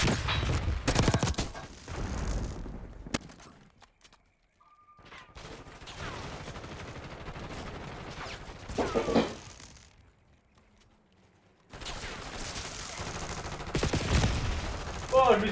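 Sniper and rifle gunfire in a video game, loud sharp shots and bursts in clusters with silent gaps between, plus echoing booms, and someone talking briefly in between.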